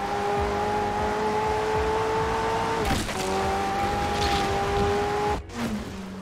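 A McLaren Senna in LEGO Forza Horizon 4 holds a loud, steady engine drone at high revs that dips briefly around a gear change, then climbs again before cutting off sharply near the end, with no speech.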